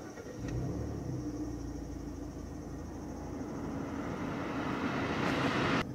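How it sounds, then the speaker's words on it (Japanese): A Mazda3 Fastback engine started by push button fires up and runs at a steady, low rumbling idle, heard from inside the car at moderate level with no talking. "それじゃあ早速エンジンかけていきたいと思います"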